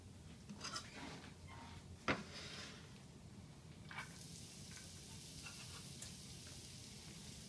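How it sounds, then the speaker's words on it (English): Shallots gently sizzling in a pan during home cooking of a saffron beurre blanc, a steady soft frying hiss with a couple of brief utensil clinks and stirring noises, no talking. "And that's a nice gentle cooking. I don't want it to go crazy and burn my shallots."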